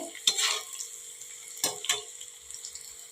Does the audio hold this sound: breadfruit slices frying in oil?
yes